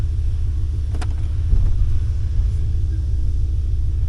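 A 1995 Chevy Suburban K2500 with a 7.4L 454 V8 shifts into four-wheel drive. A steady low engine rumble runs throughout, broken by a couple of brief clunks near the start.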